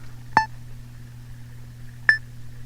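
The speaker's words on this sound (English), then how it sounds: "you hear 2 beeps" A Casio SK-1 keyboard signals Loop Set with two short electronic beeps spaced nearly two seconds apart. Each beep is clean and distinct against a low, steady hum, and no one speaks.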